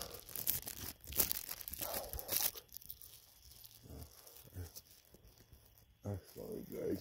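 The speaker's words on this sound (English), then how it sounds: "Unwrap cheese in my pocket." Cheese being unwrapped from its wrapper inside a pocket, heard as close, busy crinkling and tearing bursts for the first two and a half seconds, then sparser rustles with a few brief voice sounds.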